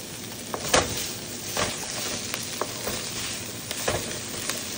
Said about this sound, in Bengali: ব্রকলিটা ভাজি অলমোস্ট হয়ে গেছে।